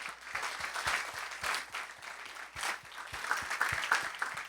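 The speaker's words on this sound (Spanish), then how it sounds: "Dele un aplauso al Señor por ellos." A church congregation applauds for its pastors, a continuous wash of clapping from many hands, steady and moderately loud with no speech over it.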